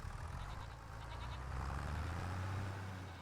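Goats bleating in the video game Farming Simulator 25, a few soft bleats early on over a steady low engine-like hum that rises slightly toward the end.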